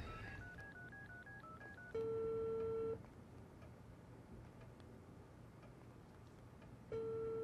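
A telephone is dialed in the video game Unheard: a quick string of keypad tones, then long steady ringback tones with pauses, clear and alone without talk.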